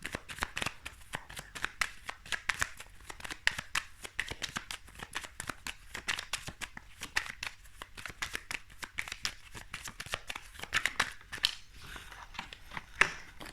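Tarot cards shuffled continuously at close range, a dense, steady run of quick papery riffles and flutters with no voice over them.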